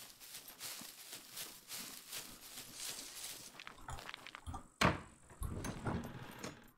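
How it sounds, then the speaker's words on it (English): A door in the survival video game SCUM bangs shut about two thirds of the way through, one sharp knock followed by some rattling, over a steady ambient game hiss with scattered small clicks. "Close the door."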